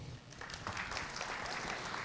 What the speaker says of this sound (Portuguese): Por favor, o aplaudam.